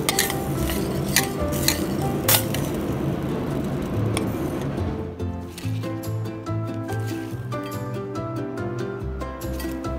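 Smelt in a curry marinade is stirred in a pan over heat, with soft scraping and clinking of a utensil against the pan under background music.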